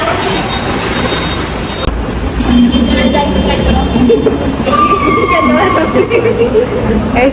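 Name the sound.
metro train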